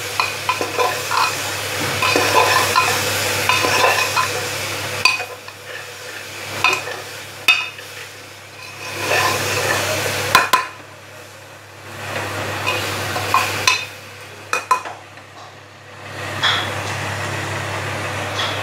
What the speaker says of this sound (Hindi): एक चम्मच बिरयानी मसाला डालकर अच्छे से मिला लें।